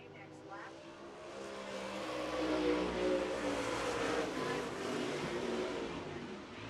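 Late model race cars run a heat race at Central Arizona Speedway, their engines a continuous distant roar that swells and fades as the pack circles the track, with an announcer's voice over the engines.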